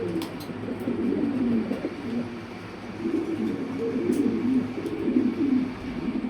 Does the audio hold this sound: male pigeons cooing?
yes